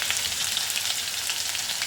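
Ginger-chilli paste with ajwain frying in a pan of hot oil, giving a steady, close hiss and crackle of sizzling with no voices.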